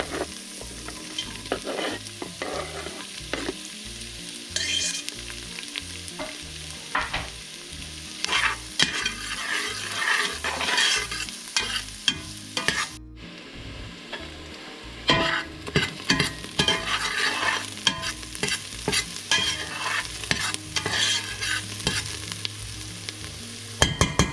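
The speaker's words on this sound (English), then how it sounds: "Then add in 1 Vidalia onion chopped. You want to cook the onion until soft and a little browned." Chopped Vidalia onion fries in melted butter in a pot, a steady close sizzle broken by repeated scraping stirs and clinks of a utensil, with a brief quiet gap midway.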